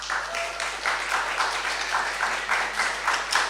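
Applause from a symposium audience on Caribbean speculative fiction, a steady wash of many hands clapping for the full stretch, fairly close and uninterrupted by talk.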